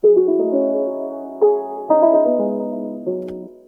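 A sustained synth-like minimal house loop plays alone, its chords held smoothly with a few fresh note attacks, never cut off or chopped.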